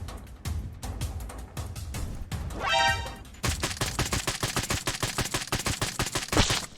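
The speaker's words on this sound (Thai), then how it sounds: "บนตึกยิงกัน" Gunfire from PUBG Mobile, likely an MK12 rifle: scattered single shots give way to a dense, rapid burst of close, loud automatic fire in the second half.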